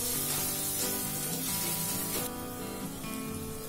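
Masala with chili powder frying in a pan for a brinjal biryani gravy, a steady close broadband sizzling hiss lasting the whole moment, with tonal music running underneath.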